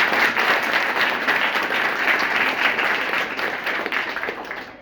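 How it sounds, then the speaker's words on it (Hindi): An audience at a school logic competition in Baswapur breaks into loud, dense clapping, a continuous wash of many hands that stays strong for nearly five seconds before easing slightly at the end. "एक बार जोरदार ताली बजाएं।"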